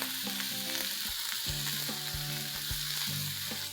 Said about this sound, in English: I'm going to just saute this for a minute.